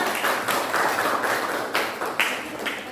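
A classroom of students gives a short round of clapping for a student group about to present, moderately loud, uneven hand claps with a few sharper accents.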